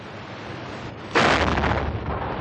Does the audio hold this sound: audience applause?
no